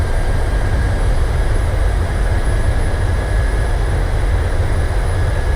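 Airliner thrust reversers roar on landing in a flight simulator game: a steady, loud, broadband engine rush with a faint high whine, continuous throughout and without talk.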